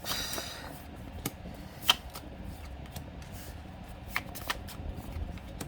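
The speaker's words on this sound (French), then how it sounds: "je vais faire 3 tas avec 3 cartes" Tarot cards being dealt out into three piles of three, giving soft, quiet card slaps and brief shuffling rustles at irregular intervals, alone with no talking.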